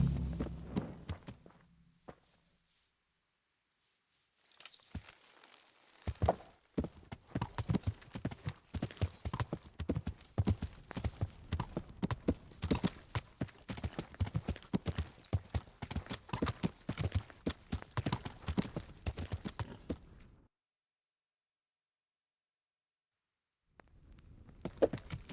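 Horse hooves in the video game Kingdom Come: Deliverance, a rapid, steady clip-clop of a trotting or cantering horse that runs for most of the clip, nearby and fairly loud, then stops abruptly, with short quiet gaps before and after.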